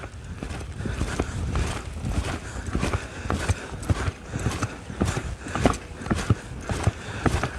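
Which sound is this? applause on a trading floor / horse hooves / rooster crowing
horse hooves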